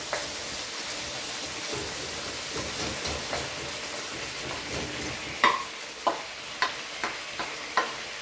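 Marinated beef cooking in a single layer in a hot pan gives off a steady sizzle and hiss, broken by a handful of sharp scrapes and clacks from stirring near the end.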